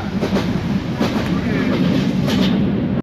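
A train rolls steadily along the rails with a rhythmic clickety-clack over a loud, continuous rumble, heard from inside a carriage.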